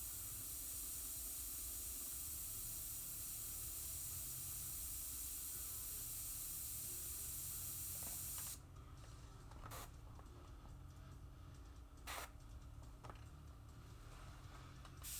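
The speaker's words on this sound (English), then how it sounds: "So we recreate that with the airbrush, and it kind of creates a nice effect for a texture" Close airbrush spraying paint as a steady, soft hiss that runs continuously, then drops to a quieter background hum broken by a few short sharp bursts of spray.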